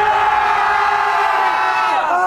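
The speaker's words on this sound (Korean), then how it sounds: "함성 5초 발사" Marine reconnaissance trainees shout a sustained battle cry in unison, a loud, continuous group roar of many voices held without a break before trailing off at the end.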